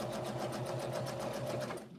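A sewing machine runs a quarter-inch seam on either side of a marked line, a steady rapid stitching drone lasting nearly two seconds before it slows and stops.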